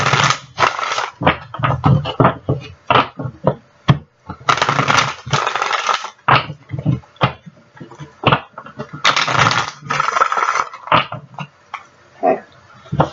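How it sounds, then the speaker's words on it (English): Tarot cards being shuffled by hand in a quiet room, giving bursts of papery riffling and flicking that come in short, uneven clusters, close and fairly loud, with no talking. "let me just give these one quick shuffle"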